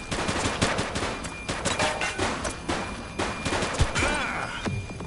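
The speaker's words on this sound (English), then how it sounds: "Shots fired!" Rapid gunfire in The Precinct police video game, dense bursts of automatic shots packed close together across the whole stretch, loud and continuous with crashing impacts mixed in.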